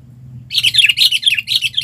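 A sooty-headed bulbul (kutilang) near a bird trap gives a quick series of bright, close chirps in short repeated bursts over a low background hum.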